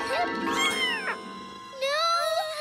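Cartoon kitten meowing in a series of high, bending mews, close and clear, one long cry then a pause and two more short meows.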